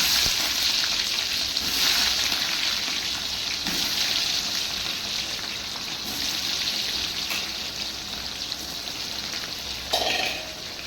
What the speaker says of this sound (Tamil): நெய்யும் எண்ணெயும் கொதிச்சிருக்கு